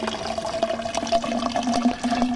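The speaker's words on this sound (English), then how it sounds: "Now I'm going to measure out my water." Reverse osmosis water pours steadily into a measure, a continuous close liquid rush with slight gurgling and a faint tone rising as it fills, with no talk.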